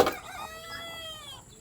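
A broiler chicken set on a scale during weighing gives one drawn-out, harmonic cluck-like call that slowly fades, close and fairly clear over quiet room noise.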